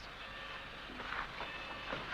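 A steam-era passenger train starts to roll in a 1951 western, with a low rumble and faint clanking that builds a little as the wagons begin moving, heard at a moderate distance.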